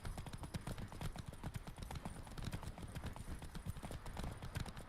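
Rhythmic hoofbeats of a galloping horse in The Witcher 3: Wild Hunt drum steadily and close for about five seconds, without a break.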